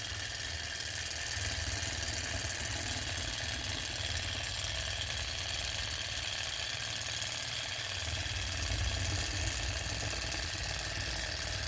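A small Enjomor Stirling engine with brass risers running steadily at speed, giving a continuous mechanical whir with a thin high ringing tone, close and even throughout.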